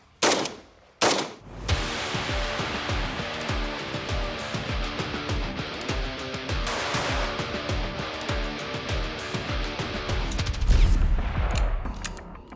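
Rapid automatic fire from a Kalashnikov rifle in long sustained bursts, loud and close, after a couple of sharp opening clicks.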